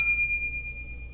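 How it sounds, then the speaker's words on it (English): A single bell strike rings out clear and bright, then decays with a long sustained tone over a low background hum, with no talk. "Did he get a victory bell for that?"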